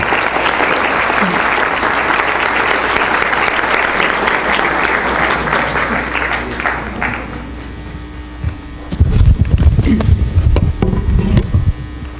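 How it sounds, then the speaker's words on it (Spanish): An audience at a book and documentary presentation breaks into loud sustained applause for several seconds, which thins out and gives way to someone speaking close to the microphone. "Un fuerte aplauso para el maestro Miguel Ángel Bastenier."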